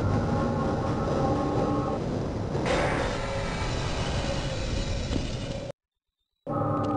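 Tram ride in Half-Life, a continuous rumbling rail roll with clattering wheels and a rising whoosh midway, loud and steady, cut by a sudden short silence near the end.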